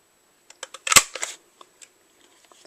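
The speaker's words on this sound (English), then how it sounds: "I'm going to just punch the top of both" A paper punch snaps through the top of greeting cards in one sharp, close click, surrounded by a few lighter clicks and paper handling noises, with no speech.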